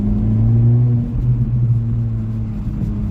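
A Fiat Panda 100HP engine holds a loud, steady rumble at high revs, then eases off with faint irregular crackles from the exhaust, up close with no talking.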